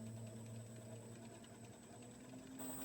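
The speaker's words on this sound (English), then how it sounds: "we're on the low range of the lathe and we're about 170 rotations at the moment" A wood lathe turns a piece of rotten oak on its low speed range, around 170 rotations per minute, giving a faint, steady mechanical hum with a soft, even rumble throughout.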